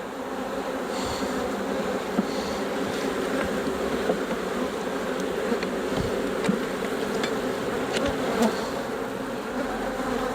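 A dense, steady buzzing of many honeybees in a hive after a swarm fills the air, a continuous drone close by with occasional faint knocks and clicks.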